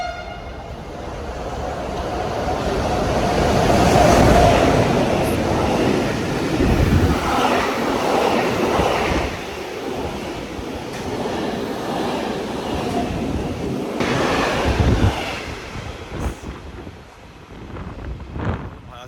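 A train roars by at full speed in Italy with a loud rushing rumble, wind buffeting the microphone, and a horn sounding briefly as it passes.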